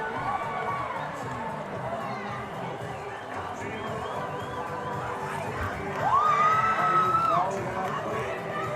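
A school rugby crowd at a Windhoek High School semi-final erupts in cheers and whoops after a try in the corner, with one loud rising shout standing out over steady, dense crowd noise and chatter.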